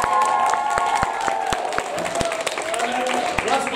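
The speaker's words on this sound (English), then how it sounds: "give them a big round of applause" Audience applause after a school nativity play: a room of parents clapping warmly and steadily, with some distinct nearby claps, scattered cheers and chatter mixed in.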